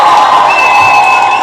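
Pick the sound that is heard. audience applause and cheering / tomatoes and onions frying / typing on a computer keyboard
audience applause and cheering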